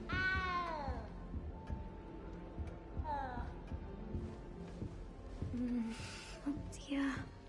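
A cat meows in Hogwarts Legacy with several rising, wavering calls near the start and again around three seconds, set over game ambience with scattered clicks and brief bursts of noise.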